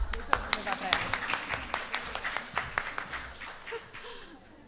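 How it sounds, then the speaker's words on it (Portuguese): An audience at a chronic pain patient symposium claps in a steady scatter of sharp, fairly close claps lasting several seconds and slowly thinning out. "Acho que merece uma salva de palmas."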